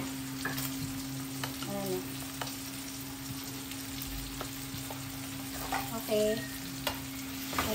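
Pork binagoongan with fresh shrimp paste stirred in a hot pan, a soft continuous sizzle with occasional scraping strokes of a utensil, a couple of brief spoken words over it.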